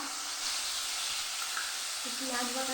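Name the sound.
onion paste frying in white oil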